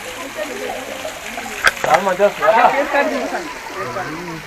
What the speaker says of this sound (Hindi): पानी पहाड़ के अंदर से आ रहा है।